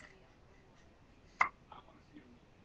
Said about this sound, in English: He's got hiccups.